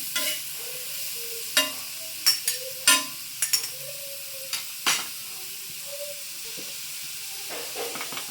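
Chicken sukka with capsicum being stir-fried in a pan, a steady sizzle and hiss broken by sharp scraping clatters of the spatula against the pan, irregular and close, with no talk.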